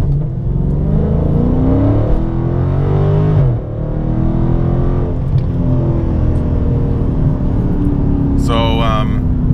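Loud, close engine of a 485 hp car on 245 all-season tyres accelerating in sport mode under light throttle, the pitch climbing through a gear change and rising again, with brief speech near the end.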